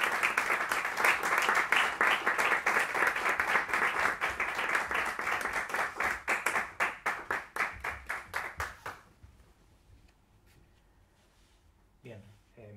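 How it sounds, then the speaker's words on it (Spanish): An audience at a piano concert gives a round of applause, dense clapping that thins into scattered claps before fading, followed by faint room noise. "no me queda más que recibir, pedir aplausos para David Canals."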